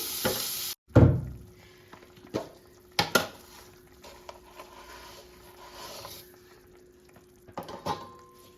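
Mango pieces fry in a pan with mustard seeds and dried chilli, a low sizzle broken by loud utensil scrapes and clatters against the pan, with no voices.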